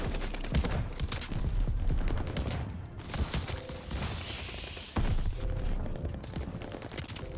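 Combat shotgun fire in Call of Duty on the Shipment map, heard as a busy, loud mix of gunshots, mechanical clatter and action noise that continues throughout with no talk.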